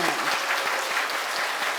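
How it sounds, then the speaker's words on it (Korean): A church congregation at a Sunday worship service claps steadily and densely to welcome visiting missionaries, close and continuous throughout. "掌声来欢迎他们"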